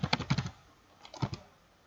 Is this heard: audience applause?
no